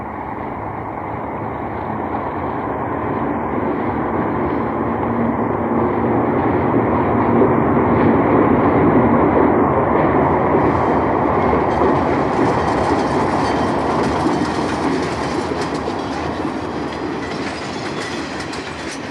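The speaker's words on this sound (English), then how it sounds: "A colorful train, number 12, the Advance Cannonball with Pensy and New Haven cars," An ALCo-hauled passenger train, the colorful number 12 Advance Cannonball with Pennsy and New Haven cars, passes at Hollis with a steady loud rumble and rhythmic clickety-clack of wheels, swelling toward the middle and holding strong throughout.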